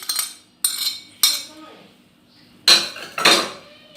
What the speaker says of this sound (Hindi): इसी तरीके से ये हम टमाटर और प्याज ऐड कर रहे हैं।